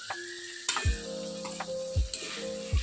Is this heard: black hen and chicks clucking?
no